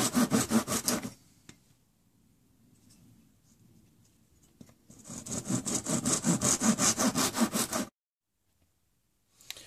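Hand saw cutting short lengths of wooden dowel, with rapid back-and-forth rasping strokes in two bursts separated by a quieter stretch, close and loud, then silence.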